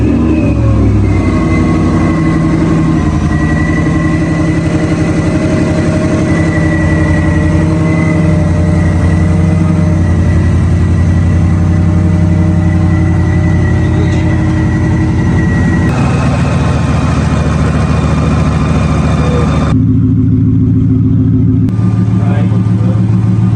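A Ford F-150 engine fitted with a Whipple supercharger runs loud and close, a steady heavy drone with a tonal supercharger whine that shifts pitch as it revs, while people talk over it.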